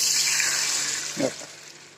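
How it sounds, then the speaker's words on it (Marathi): Water splashes and hisses as it is poured into a hot pan of tempering for sour kadhi, a steady rushing sizzle that fades toward the end with a brief gurgle. "आता हे पाणी फोडणीचं ह्याच्यामध्ये टाकते"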